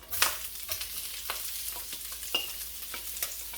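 White onion dropped into hot oil for sausage fried rice, giving a steady close sizzle broken by sharp scrapes and clanks of a utensil stirring the pan, with no talking.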